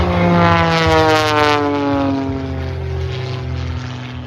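A 1956 propeller airplane known as the Ghost Rider flying at an airshow, its loud droning engine with a buzzing harmonic whine sweeping past close by and slowly fading.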